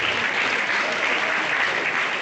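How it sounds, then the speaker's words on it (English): Steady, dense applause from a large audience at a university convocation and founders' day ceremony, a continuous wash of many hands clapping at even loudness throughout with no pauses. "So we should clap for that."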